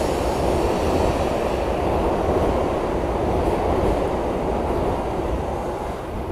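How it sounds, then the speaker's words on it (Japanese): A Tokaido Shinkansen train departs the station, a loud continuous low rumble and rushing roar that holds steady throughout and eases only slightly at the end. "今新幹線出ていきましたね。"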